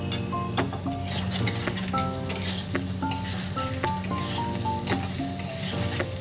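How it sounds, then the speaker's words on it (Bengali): Potatoes frying with ginger paste in a pan, a steady close sizzle under repeated clinks and scrapes of a utensil stirring against the metal, continuous and fairly loud, with no voices. "এবার দেবো এতে আমি আদা বাটা, দিয়ে ভালো করে নাড়াচাড়া করে নেব।"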